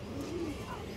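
A male Shapchila pigeon from an old bloodline gives a low, soft coo, close by but fairly quiet, set against a faint background murmur.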